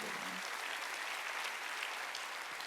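Church congregation applauding during a Korean Wednesday worship service, a soft, steady wash of clapping heard from a distance throughout, fairly faint and without distinct individual claps.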